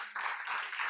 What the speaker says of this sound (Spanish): Un aplauso a Dios, hermano, por favor.